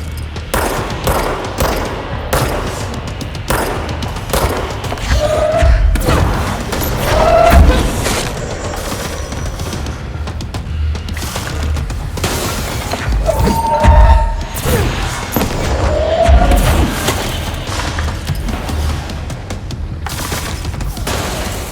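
Rapid gunfire bursts and heavy booming explosions in the video game Control, loud and continuous combat with thuds and crashes between volleys, alongside game music and brief speech.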